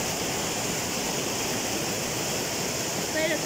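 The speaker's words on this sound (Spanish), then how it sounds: "pueden escuchar el sonido del río" A river rushes steadily near the Perolniyoc waterfall in Urubamba, Cusco, as a loud, even, broadband roar of flowing water continues unbroken throughout.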